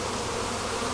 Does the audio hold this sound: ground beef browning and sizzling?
no